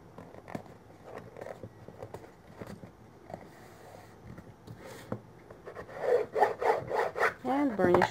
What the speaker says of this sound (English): Now burnish.